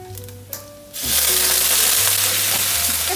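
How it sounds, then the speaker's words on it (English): Maggi noodles hitting a hot wok: after a quieter start with a light clatter, a loud sizzle bursts in and keeps up as a steady, close frying hiss, with no voices. "throw them in the wok like that"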